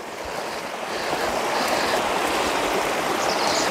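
A stream flows in a rural setting with a continuous broadband rush of water, steady and fairly loud throughout, with no voices.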